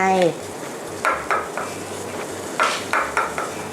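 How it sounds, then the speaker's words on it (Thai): Pork is blanched in a pot of soup broth for Thai pork noodle soup. Light clinks and knocks of a utensil against the pot repeat a few times over a soft, steady bubbling hiss. "เราก็จะมาลวกในส่วนของ เนื้อหมูนะคะใส่เนื้อหมูลงไป"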